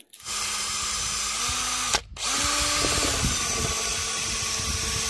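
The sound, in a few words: power drill on a glow plug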